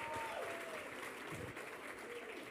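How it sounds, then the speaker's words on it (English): Faint, distant applause from an audience at a library fundraising gala in Wilmington, a steady soft patter of many hands, with a faint voice partly over it. "Let's have another round of applause."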